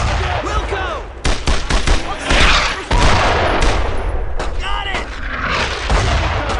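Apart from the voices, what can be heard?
heavy gunfire in the video game Brothers in Arms: Road to Hill 30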